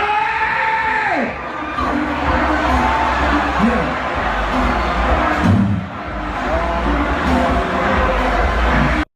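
Rowdy festival crowd at a Travis Scott Lollapalooza set in Chicago, a dense wash of cheering, yelling and whooping with swelling roars and a brief dip partway through.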